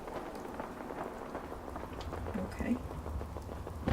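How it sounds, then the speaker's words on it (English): Steady nighttime rain falls in the Fallout game world, a soft continuous patter with a faint low rumble, quiet and low in level beneath a brief spoken word. "I guess because it's raining and it's night."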